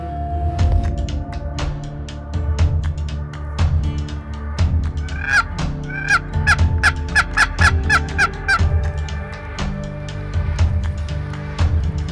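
Several young male Merriam's wild turkeys gobbling outdoors in the Black Hills, rapid overlapping gobbles repeating throughout, fairly close, with a dense cluster of calls midway.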